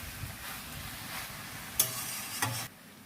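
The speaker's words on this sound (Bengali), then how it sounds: "এটাকে একটু নাড়িয়ে চাড়িয়ে নেব।" Nota greens chorchori being stirred in a pan over heat, a soft scraping and gentle sizzle lasting a few seconds, with a couple of sharper utensil knocks near the end.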